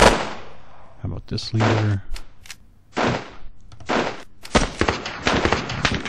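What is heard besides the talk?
scoped rifle gunshots in a video game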